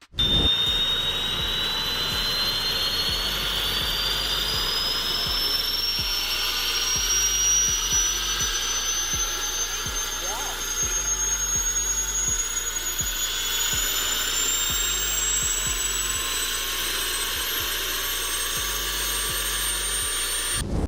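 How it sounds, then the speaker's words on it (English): The engine of a Composite FXL ultralight helicopter drones steadily with a high rising whine, continuous and loud, alongside a low rhythmic thrumming pulse. "The Composite FXL helicopter takes a completely different route."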